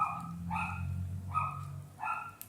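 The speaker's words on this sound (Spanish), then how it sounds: "Yo no sé si escuchan al perrito caniche ese de mi vecina que me tiene así." A small poodle at a neighbour's home barks in several short, sharp yaps, rhythmic and moderately close, with no voices while it barks.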